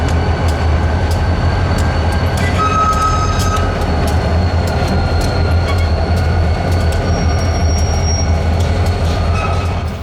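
Alstom grey SD40-3 diesel locomotive on the Aberdeen Carolina and Western rolling steadily past at close range, a continuous loud low rumble with rail rattle and occasional wheel squeal over the whole stretch.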